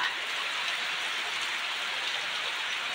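Rain falls steadily around a village house, a soft, even hiss that continues without pause and with no voices.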